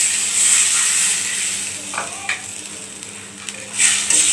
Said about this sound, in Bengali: এখন আমরা অল্প পরিমাণে পানি দিয়ে দিব